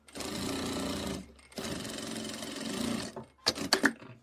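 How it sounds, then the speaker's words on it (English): Sewing machine joining patchwork quilt pieces for a baby quilt, running in two close, steady bursts followed by a few sharp clicks. "I'm sewing."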